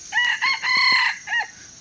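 An F2 fighting rooster crows loudly and close in one full cock-a-doodle-doo, with a short drawn-out middle note and a brief trailing call at the end.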